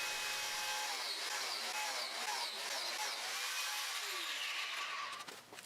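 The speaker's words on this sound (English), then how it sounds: "I decided to use my biscuit joiner" A biscuit joiner cutting slots into board edges for a laundry room build, a steady high whining motor roar with a shifting pitch as the blade bites, winding down near the end.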